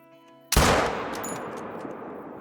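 A single loud, close rifle shot fired at a whitetail buck in the hunting game Call of the Wild, a sharp crack followed by a long rolling echo that slowly fades.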